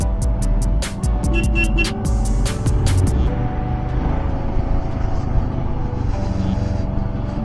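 Motorbike engine pulling hard up a narrow one-way mountain road near Joshimath, a steady loud low drone with wind rush and a burst of sharp clicks early on.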